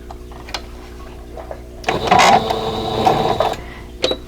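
A home sewing machine chain piecing quilt block pieces for a vintage Broken Wheel block, the stitching set to length 2.0; a steady mechanical whir runs for about two seconds amid quiet handling sounds.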